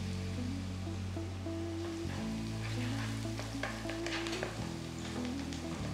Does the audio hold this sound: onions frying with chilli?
yes